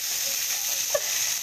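Tilapia fries in a pan, giving a steady, even hiss of hot oil that stays constant throughout, close and moderately loud, with one small pop and no voices.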